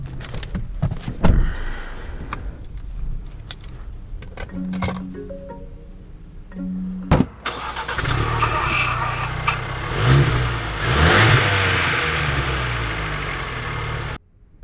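A 2020 Lincoln Corsair Reserve SUV starts, idles and then pulls away, its engine note swelling as it accelerates, with a few clicks and clunks early on before a sustained rising road and engine roar.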